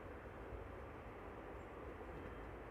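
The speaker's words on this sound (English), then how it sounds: "the engine noise of the landing airplanes bouncing off the buildings over here" Landing airliners near an airport produce a steady, distant engine roar that echoes off nearby buildings, a continuous low rumble with no pauses.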